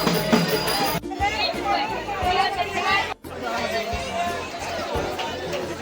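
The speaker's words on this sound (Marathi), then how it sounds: "गर्दी बघा किती आज, रविवार असल्यामुळे खूप सारी गर्दी आहे" Dense crowd chatter from Sunday visitors at Jejuri Khandoba temple, a steady babble of many voices close around, continuous for the whole stretch with a brief dropout.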